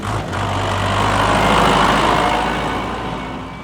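A heavy tractor engine rumbles loudly and continuously, a low diesel-like drone that swells slightly and stays steady.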